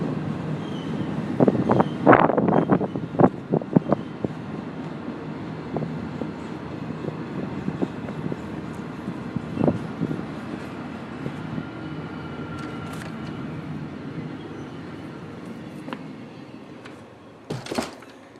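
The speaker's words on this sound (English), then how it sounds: "You can hear the train right behind us." A train rumbles past close by outside a winery with a steady low roar, clanks and rattles along the way, ending in a brief burst of noise.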